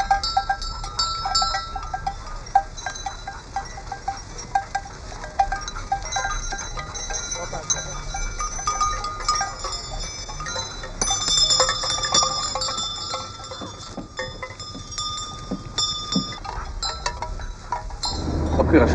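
Goats roam loose on Curaçao, their bells clinking and tinkling irregularly throughout, near and far, among faint bleats, with people talking over the scene.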